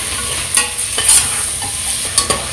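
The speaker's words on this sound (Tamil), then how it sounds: "உப்பு சேர்த்து வதக்கிக்கலாம்." Tomatoes with salt sauté in a hot pan while being stirred, a steady frying sizzle broken by several sharp spoon scrapes and clacks against the pan.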